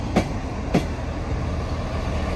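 A Class 158 diesel train, unit 158835, rumbles steadily at close range with two sharp clicks early on, a constant mechanical hum underneath.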